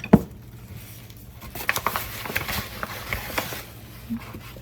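A utensil scoops flour into a pan of browning oil while making Swedish meatballs, giving a few soft clinks and light pattering taps against cookware, quiet and close, with no talking.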